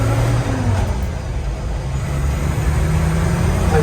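A 1981 Jeep Scrambler cruises down an expressway, giving a steady, loud, close road roar with a low engine hum and a brief faint drop in pitch, with no talking over it.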